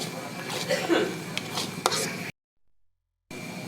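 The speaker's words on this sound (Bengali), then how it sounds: "এবারে একটু নাড়িয়ে ছাড়িয়ে নিব।" Boal fish curry masala being stirred in a pan, with scraping and clattering spoon strokes at close range for about two seconds, then a short silent gap before faint kitchen sound resumes.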